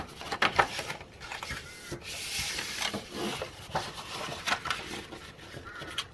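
Patterned 12-inch paper being folded and creased by hand into a gift bag, with soft rubbing and scraping strokes coming in close, quiet bursts.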